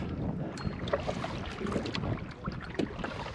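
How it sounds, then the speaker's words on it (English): Canoe paddling by a lone paddler on a Scottish loch, with steady soft water strokes and splashes close by over light wind noise on the microphone. "come out for a little paddle by myself"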